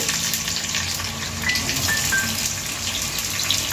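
Sliced onions frying in hot oil for a Bengali mutton liver kosha, a steady near sizzle that carries on evenly with no voices.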